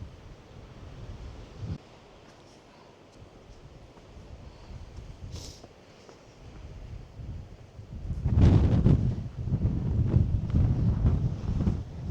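Wind blowing on the Welsh coast near a lighthouse, buffeting the microphone with low rumbling gusts that are moderate early, ease off, then surge strongly in the last few seconds.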